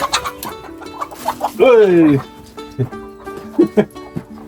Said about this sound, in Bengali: কি সুন্দর সুন্দর মুরগি দেখছেন কত শক্তিশালী